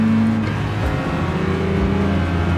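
Race car engine from Gran Turismo 7 holding a steady, loud drone with shifting pitch as cars jostle to overtake, a continuous near roar throughout.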